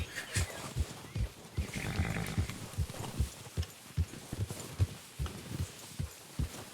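Rhythmic horse hoofbeats from Red Dead Redemption 2 trot steadily at a moderate pace, soft thuds repeating evenly over a low ambient background, with no talking.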